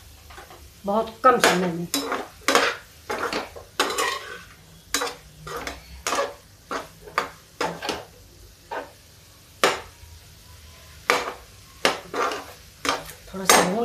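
A spoon scrapes and clanks against a metal pan while vegetable curry is stirred, a string of sharp irregular knocks and scrapes close up, with a brief spoken phrase.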